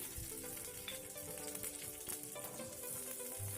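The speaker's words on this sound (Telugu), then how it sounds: "ఆయిల్ హీట్ అయిన తర్వాత కొద్దిగా జీలకర్ర, అలాగే 4 పచ్చిమిరపకాయ ముక్కలు వేసుకోవాలండి" Cumin seeds and chopped green chilli pieces frying in hot oil, a dense, continuous close sizzle with light crackling throughout.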